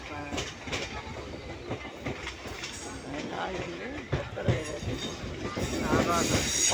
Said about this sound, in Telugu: కొత్తగా ఉంది రైలు, అది ఆగి ఉన్నది.